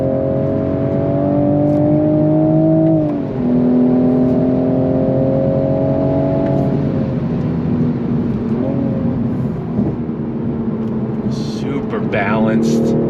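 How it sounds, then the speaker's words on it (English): Turbocharged straight-six of a 2024 Toyota Supra 45th Anniversary Edition revving hard while driving, a loud sustained engine drone rising and shifting in pitch over about thirteen seconds, with brief excited talk near the end. "You just rev out that freaking straight six turbocharged engine."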